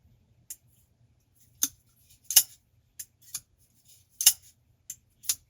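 Sharp, dry clicks of a Kizer Begleiter 2 folding knife's button lock, about nine of them at irregular intervals, a few louder than the rest, over a faint low hum.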